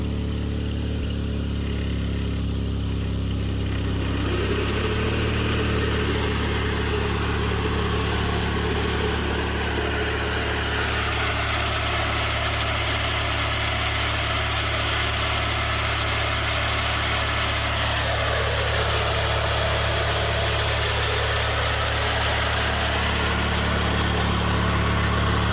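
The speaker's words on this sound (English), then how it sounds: "So let's try engaging the PTO for the first time." A Wheel Horse 520H garden tractor running with its snowthrower PTO engaged: a loud, steady engine drone close by, continuous throughout with a slight shift in pitch partway through and no talk.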